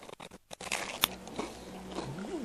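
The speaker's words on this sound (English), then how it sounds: "As you can hear, it's crunchy." A single crisp crunch of a bite into crispy grilled food, close up, followed by quiet chewing.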